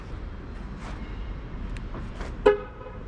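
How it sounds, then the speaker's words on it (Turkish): A brief, thin car horn toot from a 2020 Mercedes E200d sounds once over its steady idling diesel engine hum, close and fairly loud. "Şöyle ince bir korna"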